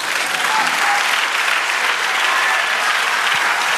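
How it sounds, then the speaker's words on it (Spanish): A church congregation breaks into sustained, dense applause, steady and loud from start to finish with no voices rising above it. "Dale aplauso al Señor"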